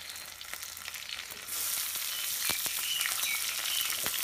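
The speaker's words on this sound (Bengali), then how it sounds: "পেঁয়াজ কুচিগুলো ধীরে ধীরে করে ভেজে নিতে হবে, যাতে পোড়া না লাগে তলে, নাড়তে থাকতে হবে।" Chopped onions with dried red chillies frying slowly in a pan for a stingray fish curry, a steady close sizzle that grows louder partway through, with occasional stirring scrapes and no voices.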